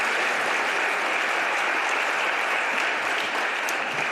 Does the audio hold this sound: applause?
yes